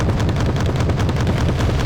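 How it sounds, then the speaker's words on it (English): Rapid, continuous 45mm autocannon fire rattles loud and dense in a Wargame Red Dragon battle, a steady barrage of overlapping booming shots with no talking. "That thing's got a 45mm auto cannon. Just destroyed my tank."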